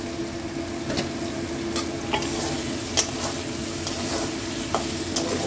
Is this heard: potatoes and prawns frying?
yes